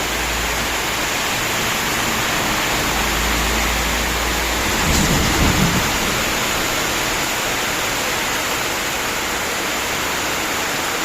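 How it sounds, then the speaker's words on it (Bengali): Heavy rain pours down in a loud, continuous roar, with a brief low rumble partway through. "প্রচুর বৃষ্টি হচ্ছে"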